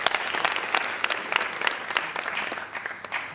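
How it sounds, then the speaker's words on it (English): Applause from a seated audience at a university professional career day, dense continuous clapping from a crowd in a room, fairly close and steady throughout with no voices on top. "So another round of applause to yourself."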